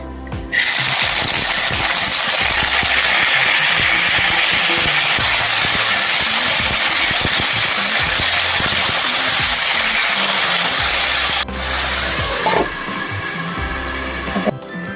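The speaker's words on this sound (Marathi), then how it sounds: "थंड झालं की मग मिक्सरमधून फिरवून घेऊ।" A mixer grinder runs loud and steady for about fourteen seconds, blending cooled tomatoes with cumin for a chutney into a dense, roaring whir, then briefly changes pitch near the end and stops. No one speaks.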